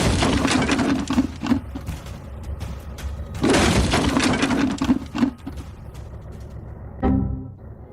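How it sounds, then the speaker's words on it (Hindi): A giant Lego tower, about 35 to 40 feet tall, collapses and breaks apart, giving long loud bursts of clattering, shattering plastic pieces in two main waves, then a final smaller crash as the debris settles. "जैसा कि आपने देखा, इनका टावर गिर गया।"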